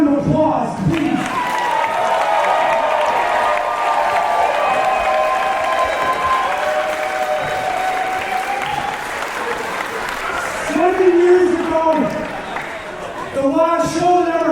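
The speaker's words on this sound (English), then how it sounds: "Give him a round of applause, please." Audience applause at a live wrestling show, with steady clapping from a crowd filling the room and some cheering. Someone speaks into a microphone at the start and again near the end.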